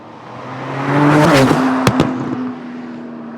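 A Porsche 992 911 Turbo S drives past, its engine tone rising and swelling as it nears, with a couple of sharp clicks or pops at the peak, then fading as it moves away.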